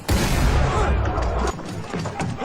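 Gunfire in a Black Sails pirate drama episode, with loud, close bursts of shots in a dense volley, followed after a brief drop by more scattered reports.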